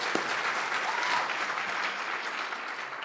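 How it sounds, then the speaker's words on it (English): An audience at a school's 100th anniversary program in Salina applauds former students, steady dense clapping filling the room throughout without a break. "I want to give all these former students a big round of applause here"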